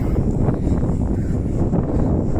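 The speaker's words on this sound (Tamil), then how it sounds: "காற்று அற்புதமாக இருக்குது." Wind sweeping over a hilltop above the sea on North Bay Island in the Andamans, a constant close roar buffeting the microphone with no let-up and no voices.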